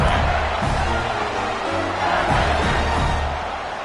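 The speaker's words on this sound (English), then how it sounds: "for an entire game, they are on their feet, yelling, screaming." Broad, sustained roar of a packed college football stadium crowd in a video game, yelling and screaming continuously at steady loudness throughout.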